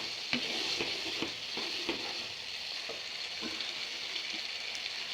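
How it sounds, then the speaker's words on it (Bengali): Water poured into a pan of sizzling pabda fish curry with potato and tomato, a steady close hiss and crackle with small pops throughout, no talking. "এখন আমি তরকারিতে জুল দিয়ে দিব"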